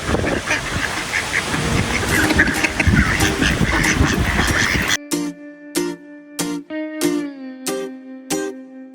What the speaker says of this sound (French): Il est encerclé par les canards.